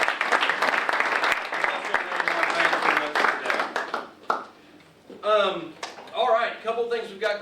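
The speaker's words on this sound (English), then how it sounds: "And let's give another round of applause to our sponsor," Applause from an event audience for a sponsor, Dave Griggs Flooring America: a dense burst of clapping for about four seconds that tapers off, followed by someone talking.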